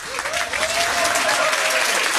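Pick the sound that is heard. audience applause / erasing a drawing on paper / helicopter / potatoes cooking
audience applause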